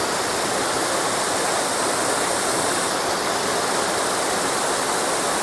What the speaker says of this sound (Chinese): 啊，睇呢条瀑布。